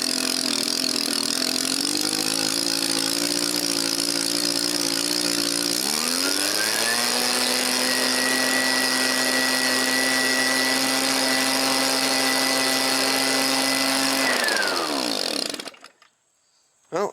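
An Echo PB 265L leaf blower, a small two-stroke engine, runs loudly and close, idling at first and then revving up to a higher steady whine before it shuts off and goes quiet.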